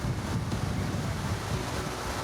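Clean treated water pours steadily from the outlet of a water treatment plant, a continuous, loud broadband rush with heavy low rumble and some wind buffeting the microphone.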